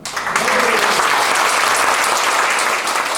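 Loud, dense applause from a large audience at a church gathering fills the whole moment, steady and sustained.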